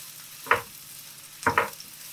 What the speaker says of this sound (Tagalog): Maggisa tayo ng 1 pirasong sibuyas.